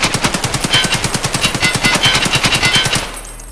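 Rapid automatic gunfire from a video game weapon firing US ammunition while standing, a fast even burst of about thirty shots over three seconds, loud and close, then cutting off to quiet.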